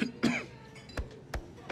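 A man coughs in three sharp, separate bursts spread over under two seconds, close and fairly loud, with a throat-clearing quality and no talk.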